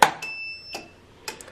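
A swing-style heat press switched on, giving a few short clicks followed by a thin, steady electronic beep tone, with quiet gaps between the sounds.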